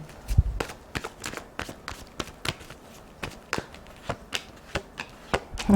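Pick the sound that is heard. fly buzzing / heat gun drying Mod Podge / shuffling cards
shuffling cards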